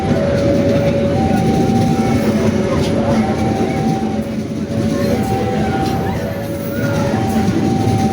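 The Taksaka executive passenger train rumbles past near Tugu station with a steady rolling roar and rhythmic clatter of wheels on rails, loud and close throughout.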